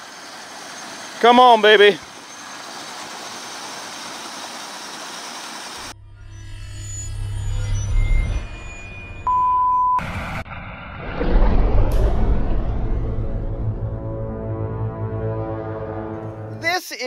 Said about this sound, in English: turning my tires, giving it some power and winching it up